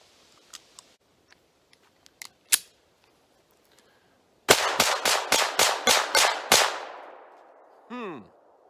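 A Taurus GX4 pistol fires at an outdoor test shoot: a few faint clicks and one louder report, then a rapid string of eight loud, evenly spaced shots with a ringing echo trailing off, followed by a brief metallic clatter.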